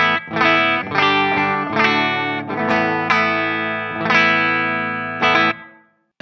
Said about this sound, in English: the first thing I always do is turn on the amp simulation, the Amp Academy.